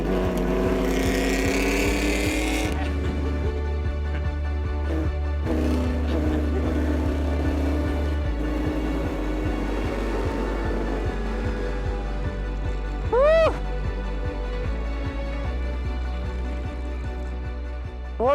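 A Formula 1 car at Silverstone, a loud, steady engine drone with sharp rev changes and gear shifts all through, heard from close in the car, with the noise of wind.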